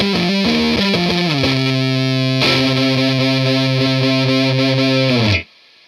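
An electric guitar runs through a germanium fuzz pedal with boost engaged, sounding loud and thickly saturated as a few sustained chords shift and ring before stopping abruptly.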